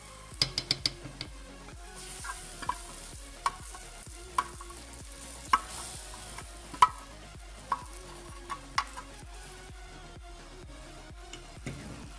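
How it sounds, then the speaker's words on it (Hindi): Masala being stirred into kadhi in a pot, with quiet scraping and sharp clinks of a spoon against the metal at an irregular pace over a faint low simmer. "अभी हम ऐड कर रहे हैं मसाला कड़ी में आपने मसाला ऐड करने के बाद अच्छी तरह से मिक्स कर लेनी है"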